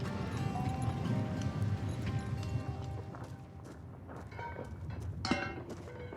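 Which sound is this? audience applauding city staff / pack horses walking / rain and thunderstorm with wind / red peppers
pack horses walking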